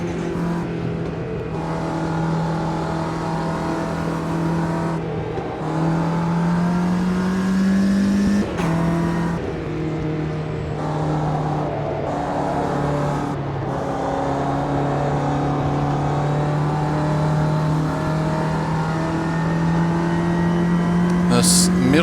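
A Ginetta G40 race car in the Automobilista 2 sim drones steadily at high revs, pitch rising and falling through gear changes, with brief dips between shifts, under a continuous engine tone.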